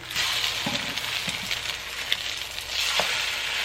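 Food sizzling in a frying pan after being flipped, a steady hiss with faint crackles and a few soft taps, fairly quiet and with no talking.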